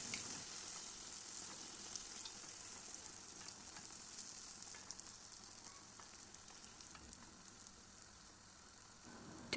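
Pişi dough sizzles steadily as it fries in hot oil in a pan, a continuous bright crackle with small pops throughout and a brief clatter right at the end.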